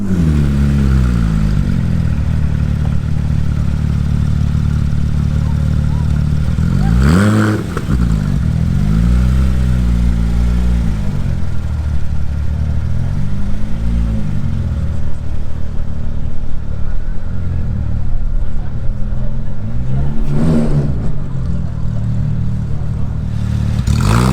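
Porsche GT3 RS T-Kart idling at a cars and coffee meet, a loud, steady, throbbing engine note held close by, with a couple of brief blips or passing revs.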